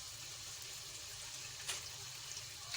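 Water poured into a pot of spiced lentils (daal) cooking with spinach, a steady close, even rush of liquid running throughout with a brief splash near the middle, no talking.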